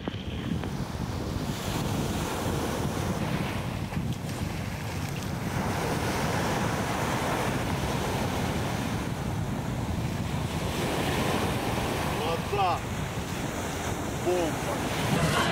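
Ocean surf and strong wind on the Bay of Biscay coast of Spain, a steady roar of breaking waves with wind buffeting the microphone throughout, no voices.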